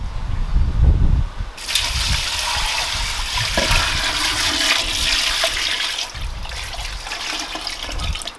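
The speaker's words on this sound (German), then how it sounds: "Und nun gieße ich 5 Liter kaltes Wasser auf." Five liters of cold water poured into a large pot for beef bone broth, a loud steady gushing rush of water that runs continuously for several seconds before easing near the end.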